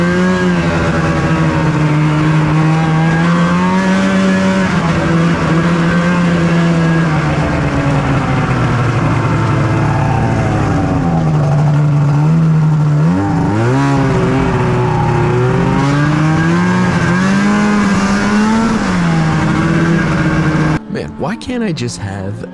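A 2005 Arctic Cat F6 snowmobile, blown up and unable to pass 70 km/h, runs wide open with a loud, steady engine drone whose pitch dips and climbs midway before a rough, broken burst near the end.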